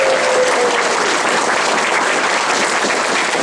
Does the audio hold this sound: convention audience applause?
yes